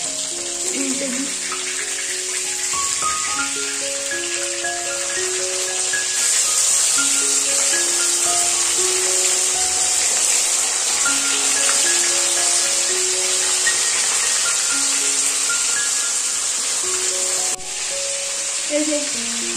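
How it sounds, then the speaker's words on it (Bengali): Fish frying in spiced oil in a wok on a gas flame outdoors on a windy day, a steady loud sizzle lasting throughout, with clattering of utensils and music in the background. "এই যে মাছ ভাজা হচ্ছে"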